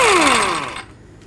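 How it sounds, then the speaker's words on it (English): A power tool winds down after spinning off a 21 mm tie rod end nut on a 2007-14 Chevy Silverado, a loud close whine that falls steadily in pitch before cutting to near silence. "remove this tie rod end nut with a 21 millimeter socket"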